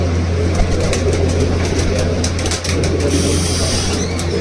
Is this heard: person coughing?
no